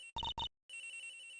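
A telephone in the video game Ace Attorney Investigations rings with two quick electronic trill bursts, a short pause, then a sustained warbling ring, clean and alone.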